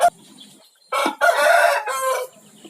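A rooster from pen 23 on a poultry farm crows loud and close, a sharp opening note then a long drawn-out crow that breaks into a final tail, with quiet pauses around it.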